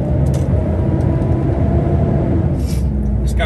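A heavy truck pulls out, its diesel engine giving a loud, steady low rumble close by, with a few brief hissing or clattering sounds near the start and toward the end.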